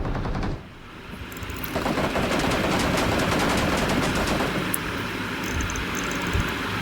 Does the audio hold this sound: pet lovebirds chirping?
no